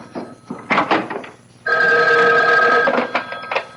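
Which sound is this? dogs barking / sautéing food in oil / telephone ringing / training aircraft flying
telephone ringing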